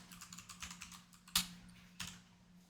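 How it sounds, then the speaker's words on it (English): Typing on a computer keyboard while entering a term into an Excel spreadsheet, a quick run of light key clicks followed by two sharper, louder keystrokes, close and alone. "Next, we will be typing the term apples."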